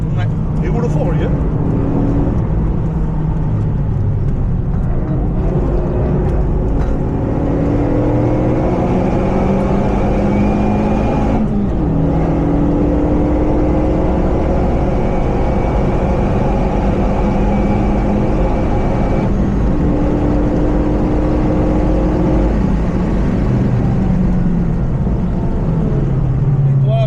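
A Renault Megane Red Bull car driving fast, its engine roar steady and loud throughout, rising and falling in pitch as it passes while people talk nearby.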